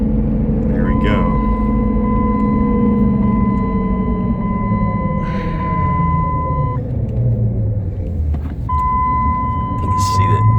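A lifted 2006 Jeep Liberty 4x4 underway on a straight road, its engine droning and climbing in pitch as revs rise, steady road rumble throughout with a brief electronic tone in the cab.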